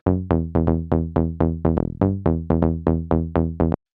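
Serum synth bass patch with envelope modulation, recreating a remix's bass: about sixteen punchy, rapidly decaying plucked notes in a steady rhythm, loud and alone, then an abrupt stop.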